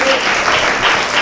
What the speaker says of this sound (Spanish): Dale palmas a Dios.